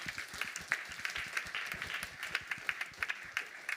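Audience applause breaks out after a talk on gender lawfare, a steady patter of many hands clapping at moderate distance, fairly soft and even, with no voices over it.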